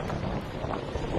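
Wind buffets a microphone outdoors, giving a continuous loud, rumbling roar with uneven gusts throughout.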